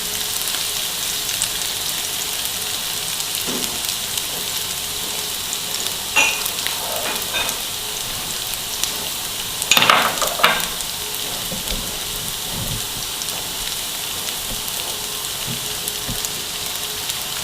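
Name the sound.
onions frying with leftover boiled rice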